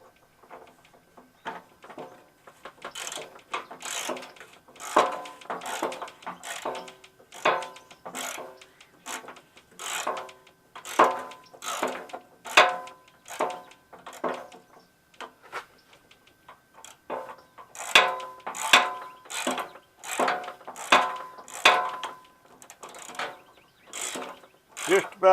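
A hand ratchet fitted with a 1/2 inch socket clicks in rapid bursts of pawl ticks while turning a bolt, with brief pauses between strokes; close and alone, no talk.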